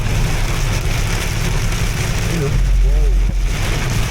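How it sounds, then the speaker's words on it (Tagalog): Heavy rain pounding steadily, a constant wash of noise heard from inside a vehicle with an engine idling underneath and a brief low thump near the end. "Lakas ng ulan."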